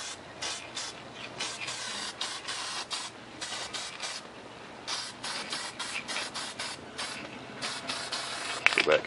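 Aerosol spray paint hissing in repeated short bursts, each blast a few seconds or less with brief pauses between, steady and fairly close, with a small clatter at the end.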